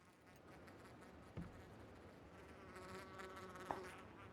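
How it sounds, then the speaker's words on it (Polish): Flies buzz in PlayerUnknown's Battlegrounds, a faint, steady insect drone running the whole time with one soft thump partway through. "Muchy mi tu jakieś latają. Próbują mnie rozproszyć, ale nie dam się."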